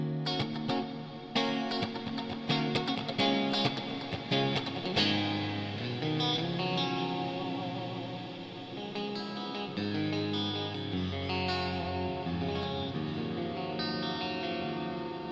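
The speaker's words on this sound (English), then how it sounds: "long, super long plate reverb" Electric guitar through a long plate reverb on an HX Stomp running into a Helix, giving sustained, layered chords with a broad, lingering wash that slowly thins out across the passage, with no talking over it.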